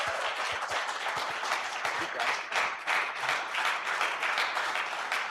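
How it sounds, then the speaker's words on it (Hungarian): An audience at a Roma civic salon gathering applauds the local mayor, with many hands clapping steadily and fairly close, forming a thick, even patter throughout. "neki is jár egy Nagy tapsot!"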